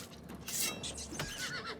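A horse in The Elder Scrolls IV: Oblivion gives a loud, close whinny under attack, a shrill rising neigh followed by a second shorter cry, with faint hoof clatter and no talking.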